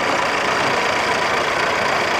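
A Sonalika tractor engine idles steadily at a tractor tochan pulling contest, a loud, continuous mid-low rumble with a fine knocking texture and no talk over it.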